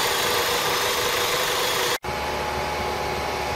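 A 2001 Opel Vectra engine runs with raised revs, a steady, dense hum and drone heard up close, with a brief dropout about two seconds in before it settles into a slightly lower, even tone.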